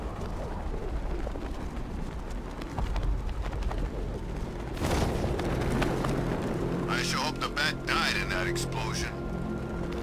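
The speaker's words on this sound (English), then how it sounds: "Explosion." A loud explosion bursts in the video game Batman: Arkham Knight, a sudden broad blast midway that rumbles on behind voices and game sounds, with a speaking voice also heard.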